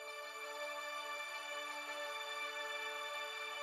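A sustained, airy atmospheric synth pad holding a dense, shimmering chord with no rhythm or voices, fairly quiet and cutting off at the end.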